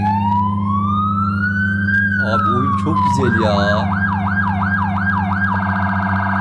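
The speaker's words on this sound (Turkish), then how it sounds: "Evet siren seslerimiz falan gayet iyi." A police siren wails continuously in an Android police convoy simulator game, sweeping slowly then switching to a rapid yelp over a steady engine drone, with someone talking over it.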